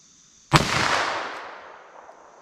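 A single .327 Federal Magnum shot from a 4.2-inch barrel handgun, fired at an outdoor range: one sharp, loud crack followed by a long, fading echo that rolls on for about two seconds.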